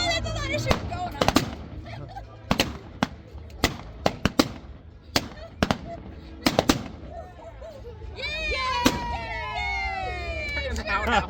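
Rapid blank gunshots crack out in irregular bursts during a staged Old West shootout show at Calico Ghost Town, loud and near, with voices and crowd chatter around them and a siren-like wailing tone near the end.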